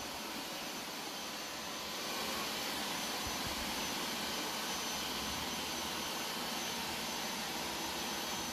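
Two robot vacuums, a Roborock S5 and a 360 S6, run together, giving a constant faint whirring hiss of suction motors with no break.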